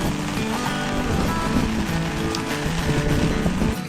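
Heavy rain pours down steadily outdoors near water during a fishing outing, a dense, close, unbroken hiss with a low rumble underneath and no voices.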